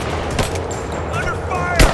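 Gunfire in Rise of the Tomb Raider cracks out in a few sharp, loud bursts against busy in-game background noise, with faint voices around it.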